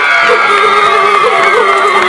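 Loud crowd cheering and shouting fills the hall at the Miss Peralvillo 2015 beauty pageant as a runner-up is announced, a dense continuous roar of voices and whoops.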